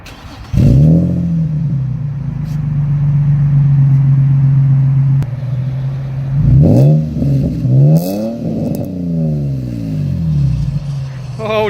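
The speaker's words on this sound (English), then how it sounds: "we're going to do a startup of the car" An Infiniti G35 engine cranks and fires into a near-cold start, settling into a steady idle with a raspy exhaust, then several sharp revs climb and fall close by, with no talk over it.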